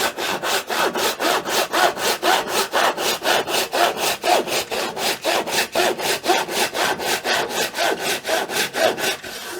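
Steady back-and-forth strokes of a hand panel saw rip cutting a small piece of wood, about three strokes per second, close and even, with no voices.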